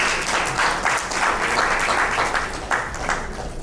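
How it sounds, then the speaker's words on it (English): A crowd of nursing school alumni applauds at an anniversary gathering, steady dense clapping filling the room without pause. "A round of applause for yourself, please"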